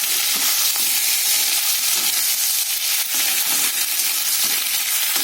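A hilsa fish head fries in oil with mustard-poppy paste, green chilli paste and black cumin, a loud, dense, continuous sizzle and crackle close up, with no voices.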